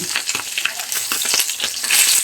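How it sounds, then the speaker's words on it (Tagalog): Tilapia frying in a hot grill pan, a steady crackling sizzle with bright spitting pops, close and fairly loud throughout. "nagpiprito ako ng ano, tilapia"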